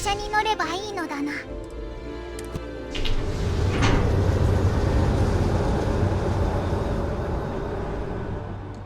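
A train in the game Starfield rumbles steadily, rising after a few seconds into a loud continuous rolling roar, with a voice speaking over the start.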